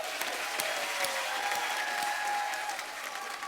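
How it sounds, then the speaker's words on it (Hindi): The studio audience of The Kapil Sharma Show breaks into enthusiastic applause, a continuous, dense wash of clapping with a few sharper claps standing out, fairly soft overall. "जोरदार तालियां हो जाए"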